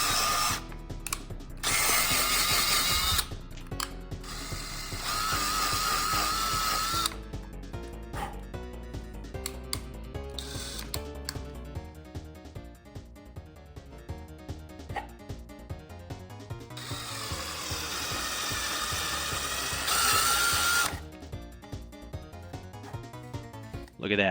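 Power drill boring holes into a Mr. Potato Head figure, whining bursts that start and stop with slow careful passes, close and loud, with a dog barking and a faint voice at times.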